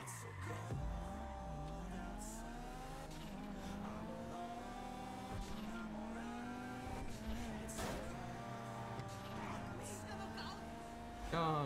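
Car engine revving and whining through gear changes in GTA 5 Online, with a continuous rising and falling engine tone, occasional tire noise, and a voice talking over it.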